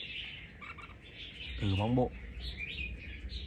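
Red-whiskered bulbuls (chào mào) from Lạng Sơn chirping in short bright bursts with one louder warbling phrase midway, close by, while someone talks briefly in the background.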